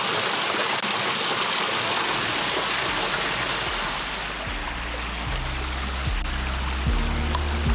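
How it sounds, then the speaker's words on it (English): A hidden waterfall in Ironbridge woodland in Shropshire pours with a dense, constant roar of falling water, close and loud throughout, while a low tonal hum steps through a few pitches underneath in the second half. "The hidden waterfall."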